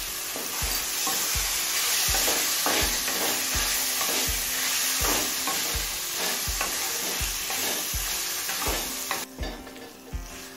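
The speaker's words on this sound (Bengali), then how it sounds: "আলু, বিনস আর গাজরটা দিয়ে আরো 3-4 মিনিট কষিয়ে নিয়েছি।" Potato, beans and carrot are sautéed with spices in a pan, with loud continuous sizzling and regular scraping stir strokes about every half second, then a brief quieter moment near the end.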